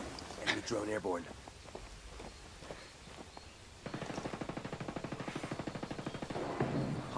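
Enemy gunfire in a Ghost Recon Wildlands 4v4 PvP match: sparse shots and movement at first, then a sustained rapid automatic burst of evenly spaced loud reports over the second half.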